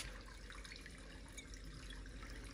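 A tap runs to fill a container beside a village wood-fired stove, giving a faint, steady hiss of flowing water with no pauses, low in level and heard alone.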